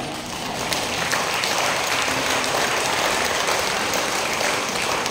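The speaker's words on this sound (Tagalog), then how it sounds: "Alata sa palakpak yan." Steady, dense applause from a church congregation in Taal, Batangas fills the space evenly, a broad wash of many hands clapping at once without pause.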